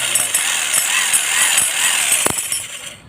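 A Makita HR3850 rotary hammer runs in chisel mode, giving a steady, loud high-pitched mechanical whine with a fast hammering buzz that holds for about three seconds before tailing off.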